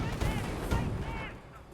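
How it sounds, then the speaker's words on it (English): Autocannon fire in the strategy video game Company of Heroes; a dense low rumble of rapid bursts and booming blasts, loud at first and fading toward the end, with a voice speaking over it. "a lot of autocannon fire from this Panzer League player still"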